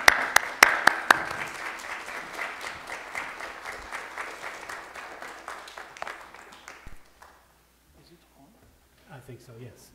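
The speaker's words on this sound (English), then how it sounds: "let us clap our hands for Jesus as he steps forward" A church congregation applauds to welcome a pastor during a Sunday morning service. Loud, dense clapping with a few sharp claps near the start fills the room for about seven seconds, then fades to near silence with faint movement.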